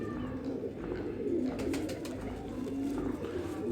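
Qasori pigeons cooing softly in a steady low murmur, close but quiet, with faint handling noises and no speech.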